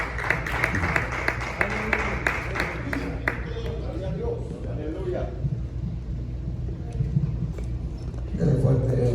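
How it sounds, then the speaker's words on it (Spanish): Worshippers at a church service clap their hands in praise, a dense run of claps through the first few seconds that thins out, with voices talking over it and a preacher speaking nearby. "Dele fuerte ofrenda de palmas al Señor, hermano."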